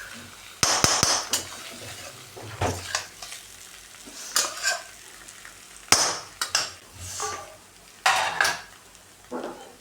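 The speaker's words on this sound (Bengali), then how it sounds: "এবার ধনেপাতাগুলো ভালো করে মিশিয়ে নেবো সব আলুগুলোর সাথে।" Coriander leaves stirred through potatoes for Bengali-style dum aloo, a spoon scraping and clattering against the pot in repeated uneven strokes over a light sizzle, close and loud with no talking.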